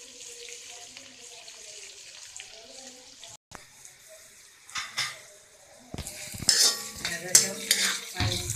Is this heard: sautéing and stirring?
yes